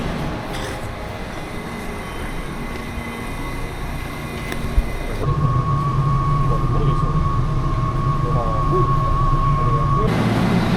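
A loud, continuous rumble of a Seoul subway train in motion, with a steady hum and tonal whine that shifts midway, as if heard from inside a carriage.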